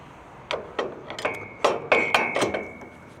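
Hammer striking metal on a flatbed trailer being modified, about eight sharp clanging blows at an irregular pace, close and clear with a faint ringing tone, no talking.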